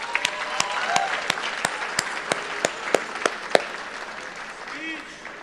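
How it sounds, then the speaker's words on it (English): Audience applause at an awards gala, with steady clapping and sharp individual claps under ongoing talk. "So let's give him a round of applause."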